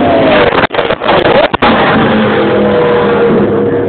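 A Dyson prototype race car, smoking from a possible turbocharger failure, roars past trackside. The loud engine note sweeps by amid heavy wind buffeting, with brief sharp dropouts.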